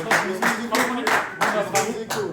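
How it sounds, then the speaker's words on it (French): A small audience applauds trainee referees at the end of a refereeing training course, steady rhythmic clapping from a handful of people, close and fairly loud, with faint talk underneath. "On peut les applaudir."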